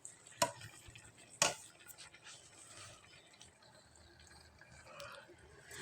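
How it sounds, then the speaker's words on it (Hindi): A spoon scrapes and stirs carrot halwa simmering in milk in a pot, with two sharp knocks against the pan early on, then faint, quiet bubbling and stirring. "इसमें हम चम्मच चलाते रहेंगे, क्योंकि ये नीचे से जो है वो लगना शुरू हो जाएगा"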